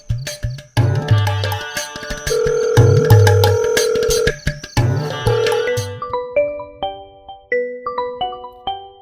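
A telephone ringtone plays late at night as a loud melodic electronic tune, repeating several bright chiming phrases over a low rhythmic beat. The tune then thins into sparse, softer notes, and no voices are present.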